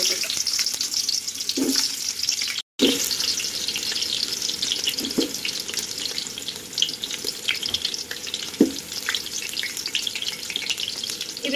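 Chopped onions frying in oil for biryani, a steady close hiss and crackle of sizzling throughout, with a few stirring scrapes and a brief dropout near the start, no talking.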